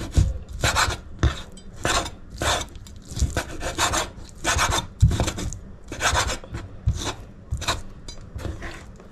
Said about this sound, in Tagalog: lagay natin yan sa food processor